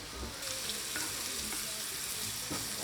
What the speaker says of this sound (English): All right, we're cooking up the shrimp.